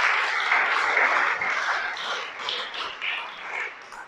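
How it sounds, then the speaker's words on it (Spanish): An audience applauds during a Sabbath sermon, producing dense, sustained clapping at a steady level that gradually thins slightly toward the end. "Dale un aplauso al Creador."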